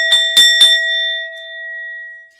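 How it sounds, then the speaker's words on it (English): A small bell struck three times in quick succession, each clear ding blending into a long sustained ringing tone that slowly fades, close and alone without speech. "I show you gratitude right now with the sound of this bell."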